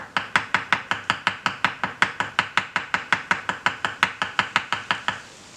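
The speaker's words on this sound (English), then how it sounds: "I went with ball peen, so that's how I rivet. So what you're doing, tapping down very gently" A ball peen hammer gently taps a rivet to form a small mushroom head: about two dozen quick, evenly spaced metallic taps, close and crisp, with no talking.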